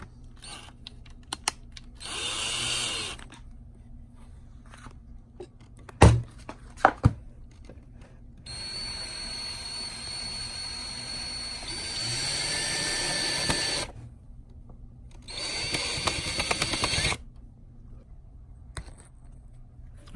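A power drill whirs in several separate bursts of a few seconds each while driving screws into a bathroom vanity drawer, with clicks and handling noises between the runs.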